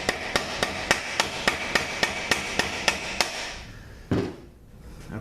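About a dozen evenly spaced metallic taps on a part during teardown of a 3-speed VW transmission, followed by one duller knock and a fading scrape.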